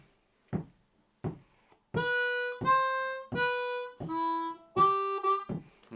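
A C harmonica plays a simple blues lick in second position in G, with no bends, after a few soft count-in taps. Five or six bright, sustained reedy notes follow one another in an even rhythm.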